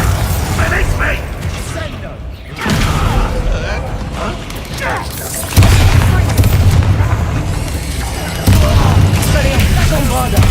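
Bombarda blasting spells in a Harry Potter video game land as repeated booming bursts with mechanical clatter, three sudden surges roughly every three seconds over continuous game noise, with a voice calling out at times.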